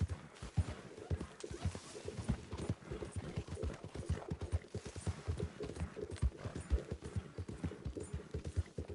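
Steady, rhythmic clip-clop of a tired horse's hooves walking in the video game Red Dead Redemption 2, fairly close and consistent throughout with no voices.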